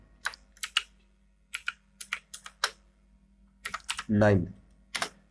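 Crisp computer keyboard keystrokes come in short bursts and single taps while a sheet name is typed in Excel, close and clear with a brief spoken remark near the end.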